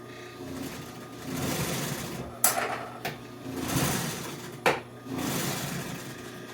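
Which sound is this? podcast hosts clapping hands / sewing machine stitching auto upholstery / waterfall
sewing machine stitching auto upholstery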